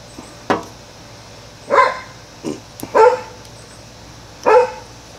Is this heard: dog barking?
yes